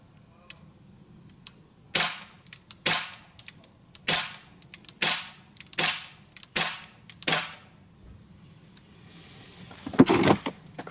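Umarex Colt Defender CO2 BB pistol firing about eight sharp, close shots at roughly one-second intervals, each a crisp pop, followed by a brief mechanical rattle near the end.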